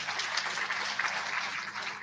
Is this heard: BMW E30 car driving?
no